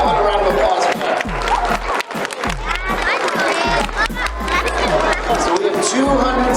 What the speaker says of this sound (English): Hey, how about a round of applause for that?